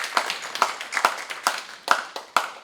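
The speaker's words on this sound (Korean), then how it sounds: "다시 한번 박수 좀 부탁드리고요" Sparse, uneven clapping from a small audience at a workplace information session on retirement pension plans, a handful of distinct hand claps spaced irregularly, fairly close and moderately loud.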